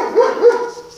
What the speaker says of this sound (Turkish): komşunun köpeği her Allah'ın günü gece gündüz havlıyor arkadaşlar